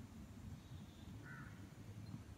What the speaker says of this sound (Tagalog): Ayan, maraming uwak.